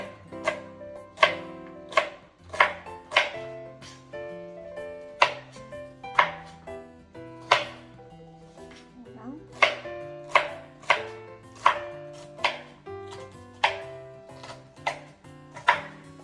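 Celery being chopped with a knife for a keto seafood chowder, a steady series of sharp, close knife strikes on a cutting board in an uneven rhythm, with no talking.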